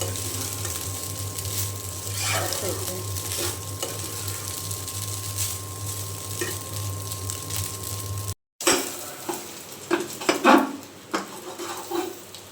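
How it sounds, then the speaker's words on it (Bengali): Leftover cooked rice fried in a pan, a steady sizzle with scraping stir strokes against the metal, a brief cut partway through, then louder clattering stirs near the end. "এইখানে যে ভাত ভেজে নেওয়া হয়ে গিয়েছে"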